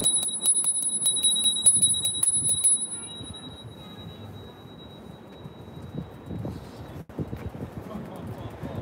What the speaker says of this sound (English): Small bell, but a loud noise.